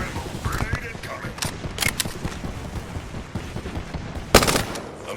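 Gunfire in the Apex Legends video game, with bursts of automatic shots and sharp single cracks scattered through the clip, plus one loud blast near the end, all over a busy mix of game sound effects.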